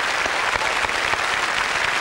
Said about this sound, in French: Je vous demande d'applaudir maintenant le nouveau président de ce parc Euro Disney, qui est français, qui est monsieur Philippe